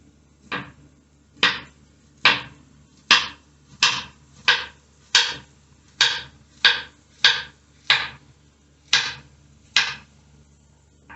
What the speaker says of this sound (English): Cut up your banana.